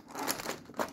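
Crinkly tearing of advent calendar packaging as a small door with a toy dinosaur inside is ripped open, two close crunchy bursts of paper and plastic.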